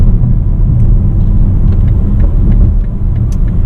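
A 2020 BMW X5 M Competition accelerates hard, its engine a loud, deep, continuous rumble heard from close up, likely from inside the cabin. A few light clicks and rattles sit above the drone, and no one speaks.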